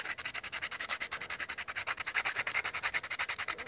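Rapid, rhythmic rasping of sandpaper rubbing back and forth on wood to remove its finish, close and continuous, several strokes per second.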